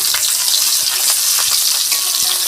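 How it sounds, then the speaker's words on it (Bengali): Small puti fish frying in a pan, a steady, close hiss of sizzling oil with occasional crackles and light stirring, without speech. "এই যে ছোট পুঁটি মাছ ভাজা হচ্ছে"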